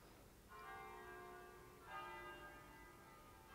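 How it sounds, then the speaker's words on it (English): Two faint, ringing church bell strikes sound in the distance, each tone lingering and fading slowly in a quiet space. "And please excuse the bells."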